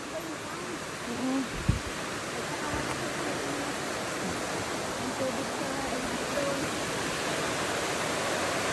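A steady, broad rush of falling water at Pearl Waterfall near Silvermine Cave, Mui Wo, Hong Kong, fills the scene, constant and full-bodied, with a faint voice briefly audible beneath it.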